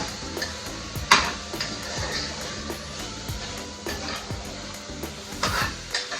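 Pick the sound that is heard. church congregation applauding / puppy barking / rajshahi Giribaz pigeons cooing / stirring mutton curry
stirring mutton curry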